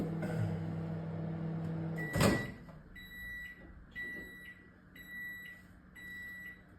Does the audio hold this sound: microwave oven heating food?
yes